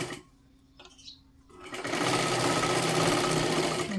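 A sewing machine stitches a seam on a princess-cut blouse, starting up after a quiet moment and then whirring loudly and steadily up close.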